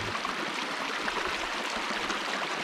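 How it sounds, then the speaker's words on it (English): A steady rush of running stream water, close and continuous, with no voices. "Sound of running water."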